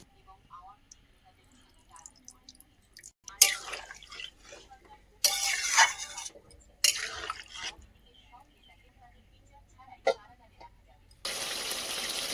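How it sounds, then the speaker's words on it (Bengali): Water is poured into a pot of potatoes and broccoli for an egg curry, coming in a few separate splashing, gushing bursts with quiet gaps between them. "এখন আমি দিয়ে দিচ্ছি পরিমাণ মতো জল, যাতে আলু ব্রোকলি খুব সুন্দর করে সেদ্ধ হতে পারে"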